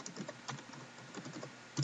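Short burst of typing on a computer keyboard, soft close key taps in a quick uneven patter with a slightly firmer press at the end, quiet overall.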